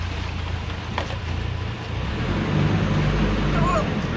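A boat engine idles steadily on the water, a low continuous drone that shifts slightly in pitch as the gears clunk from forward into reverse, with a voice speaking briefly over the engine.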